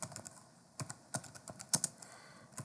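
Irregular clusters of light keystrokes tap on a computer keyboard, close and clear, with short pauses between bursts and no talking.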